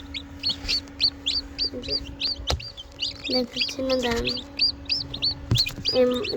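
Chicks peep rapidly in a steady stream of high, rising chirps, with occasional low clucks from a hen, while a person speaks briefly nearby; the chicks are hatching in an incubator.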